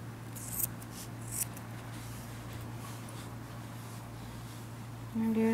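Scissors snipping through yarn while finishing a crochet tassel for a rainbow coaster, two quiet close cuts over a steady low hum, followed by a faint rustle at the end.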